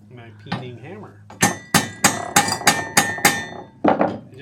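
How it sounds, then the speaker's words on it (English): A peening hammer strikes a metal scythe blade about seven times in a quick, ringing series, close and sharp, after a few brief voice sounds. "My peening hammer."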